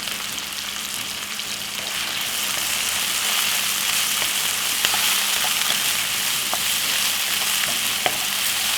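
Loud, continuous sizzling of vegetables frying in a hot pan, with occasional crackles and pops.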